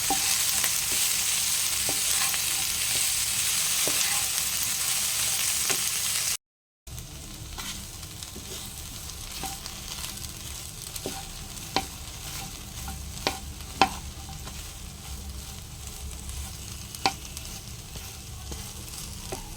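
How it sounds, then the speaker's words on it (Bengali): Tomatoes, green chillies, salt and turmeric frying together in a pan for mung dal with soybean chunks, a steady close sizzle broken by sharp scraping clicks of a spoon stirring, with a brief gap partway through and no talk. "এবারে সব একসাথে ভালো করে ভেজে নেব"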